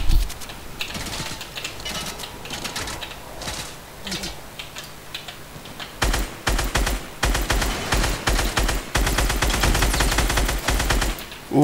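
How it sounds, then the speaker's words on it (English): Fortnite gunfire: rapid, close bursts of shots crackle over game sounds, getting denser and louder in the second half. "Oh, I'm being shot."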